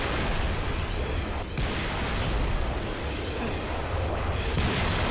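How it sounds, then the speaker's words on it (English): Rocket launches and explosions from Halo Reach fill a dense, continuous roar of combat noise, with a sharp break and renewed blast partway through and faint voices mixed underneath. "Noble, you have a rocket. Use it."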